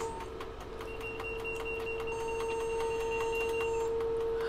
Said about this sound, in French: le bruit que vous entendez, c'est justement le pré-graissage du moteur qui vient de s'enclencher